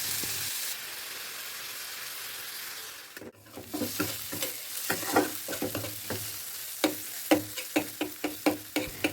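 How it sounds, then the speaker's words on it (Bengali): Chopped onions sizzle softly in hot oil in a wok while a utensil scrapes and stirs them, producing a steady rhythm of clinks. "কুচনো পেঁয়াজটাকে অল্প একটু নুন দিয়ে বেশ ভালো করে হালকা করে লাল লাল করে ভেজে নেব"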